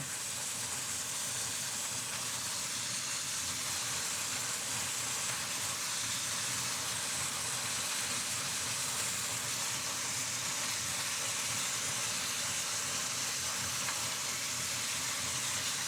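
Chicken pieces sizzle steadily in a hot pan, a continuous close, loud hiss of frying with no talking.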